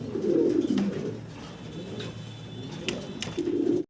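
A pair of white pigeons coo up close, with low throaty rolling calls at the start and end and quieter murmuring between.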